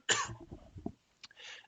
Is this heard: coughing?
yes